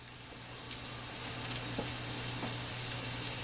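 Onions fry in a pan with a steady, fairly quiet sizzle. The faint even hiss holds throughout, broken only by a few tiny pops.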